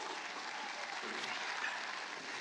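An audience applauds in a steady, even wash of clapping that holds throughout, somewhat distant and soft.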